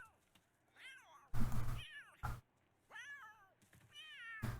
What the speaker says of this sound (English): Oh, my cat is already hunting again.